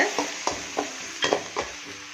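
Onion and tomato paste sautéing in a pan for a leftover chapati dish: a soft, continuous sizzle broken by regular spatula scrapes and taps, close and moderately loud.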